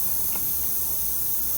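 Air hisses steadily out of a tyre valve on a Bolens HT20 tractor, a close, constant bright hiss with no pauses throughout.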